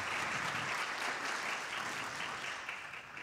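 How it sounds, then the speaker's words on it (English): Audience applause at a leadership summit session at Indiana University, a steady dense wash of clapping that holds strong throughout and tapers slightly at the end, with no talk over it. "Please join me in giving these folks an applause."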